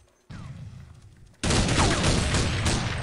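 Rapid bursts of automatic gunfire from the video game Counter-Strike 1.6, loud and dense, starting with a short volley and then a heavier sustained burst that fills the rest of the clip, with no talk.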